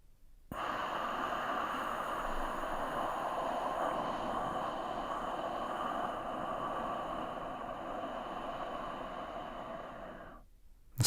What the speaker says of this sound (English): And then breathe out through the nose.